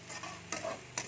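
Whole coriander and cumin seeds fry in a pan for raw banana kofta, with a soft, faint sizzle and a couple of brief scraping stirs, close and quiet.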